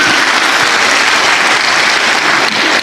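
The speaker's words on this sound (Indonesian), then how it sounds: "Coach Ridwan, berikan aplaus, tepuk tangan untuk beliau." Steady, loud applause from a large crowd, dense clapping filling the whole moment without a break.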